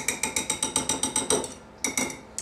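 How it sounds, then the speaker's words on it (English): A whisk beats coconut sauce with cilantro and jalapeno in a bowl, giving a quick, steady run of about a dozen rhythmic metallic clicks that pause briefly and then resume, close and clear, with no talk. "So whisk it up really nicely"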